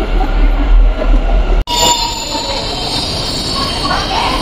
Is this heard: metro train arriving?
yes